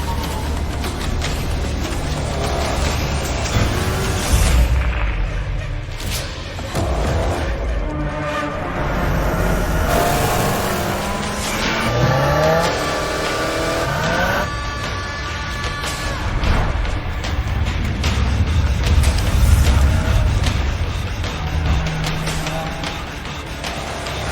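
A 2022 Subaru WRX engine roars and revs hard while gravel and dirt crunch and spray, the loud drive surging and easing repeatedly.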